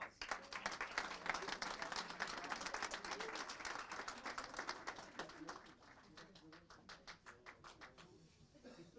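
An audience claps at a city council meeting to honor a soccer league, steady dense applause running for most of the stretch before thinning toward the end.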